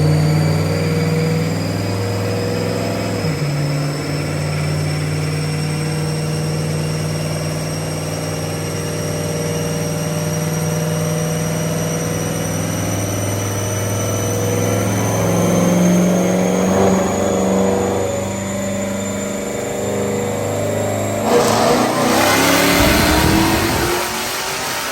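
A tuned, boosted street car engine on the dyno revs out steadily for a long, loud pull, its pitch climbing continuously before a sharp burst of noise as it lets off near the end.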